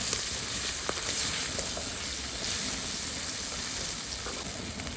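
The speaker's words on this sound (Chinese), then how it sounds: "把辣味炒出来" Ciba chili paste stir-fries in hot oil in a wok, a steady close sizzle with faint clicks of stirring and no talk.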